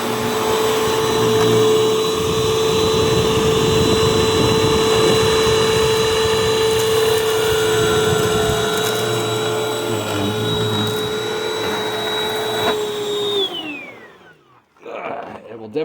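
A Hoover Mach5 vacuum cleaner running at full power gives a loud steady whine with a constant high motor tone that holds for about thirteen seconds, then winds down as it switches off.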